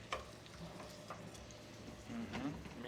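Onions fry and get stirred in a pan, a soft, low-level sizzle with scattered ticks and scrapes from the stirring, and a faint voice briefly audible toward the end.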